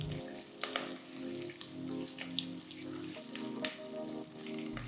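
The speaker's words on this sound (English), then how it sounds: "Saute well till everything turns golden and fragrant." Small shallots and fresh curry leaves sautéing in hot oil for a South Indian vatha kulambu, a steady crackling sizzle with scattered sharp pops, close and continuous with no talk.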